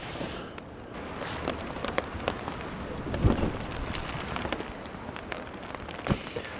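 Rain falls on a campsite in Argyll, a faint, steady patter with scattered louder drops and soft wind, with no voices.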